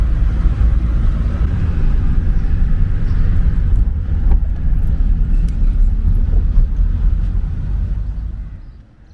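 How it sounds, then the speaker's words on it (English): Steady loud rumble of cars in the car park of a bazaar in Pakistan, a continuous engine and traffic drone with no clear single pass-by, fading near the end. "this is the car park of the Carano Bazaar"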